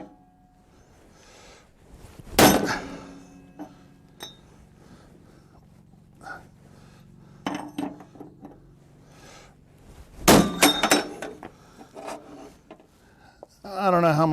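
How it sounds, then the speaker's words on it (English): Hammer blows on a metal shaft being straightened, heard as a few scattered sharp metallic strikes with clinks and shop rustling between them, close and fairly loud. "Bigger hammer."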